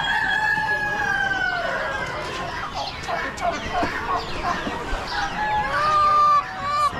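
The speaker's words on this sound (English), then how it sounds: "Roosters." Several roosters crow at an Amish animal auction, their long drawn-out calls overlapping one another against a busy, noisy background of clucking fowl.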